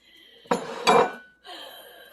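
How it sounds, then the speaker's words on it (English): Shrimp and asparagus dropped back into a pan of Alfredo sauce for linguini, giving two close clattering bursts of pan and utensil contact, a short pause, then a softer stirring scrape. "I'm going to put them back in the pan"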